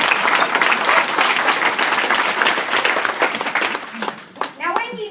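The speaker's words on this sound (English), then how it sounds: "and you can clap" An audience claps loudly and densely at a talk, the applause gradually thinning toward the end as a voice starts speaking over it.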